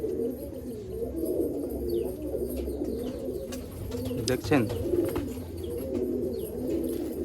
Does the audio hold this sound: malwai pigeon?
yes